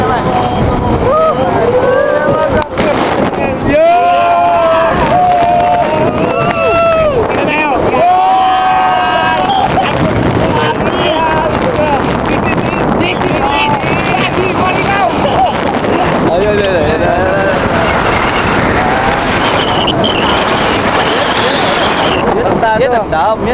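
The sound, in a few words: boat ride on the Angat Dam reservoir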